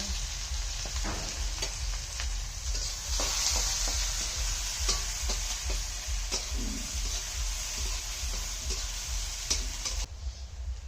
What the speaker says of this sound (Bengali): প্রথমে দিয়ে দিলাম পেঁয়াজ কুচি